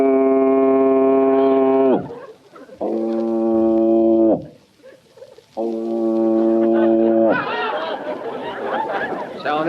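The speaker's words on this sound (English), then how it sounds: "So that's a foghorn." Three long, loud, droning foghorn blasts sound as a radio comedy sound effect, separated by short pauses. An audience chuckles and chatters afterward.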